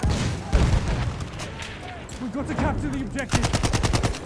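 Gunfire in the Battlefield 1 video game crackles in rapid bursts and scattered shots, loud and close, with a dense rattling run of automatic fire at the end.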